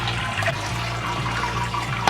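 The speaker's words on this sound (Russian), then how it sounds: "Первую промывочную воду дам литров 6." Hot sparge water at about 75 degrees pours steadily into the mash for a home-brewed West Coast pilsner, making a loud continuous splashing and rushing close by, without speech.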